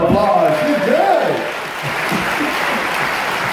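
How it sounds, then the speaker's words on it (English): Cruise ship show audience gives a volunteer onstage a round of applause, a steady wash of clapping that follows someone speaking at the start and holds at a moderate level. "give her a big round of applause"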